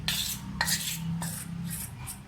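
A fork works egg and ghee into flour for donut dough in a bowl, making a run of scraping, clinking strokes against the bowl roughly every half second, close and clear, without any talking.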